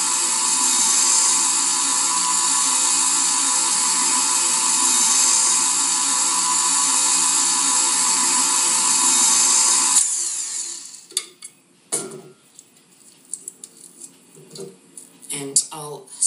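An electric stand mixer blends chocolate cookie dough after salt goes in, a loud steady whirring drone that runs unbroken for about ten seconds, then cuts off, leaving faint clinks and light kitchen handling noises.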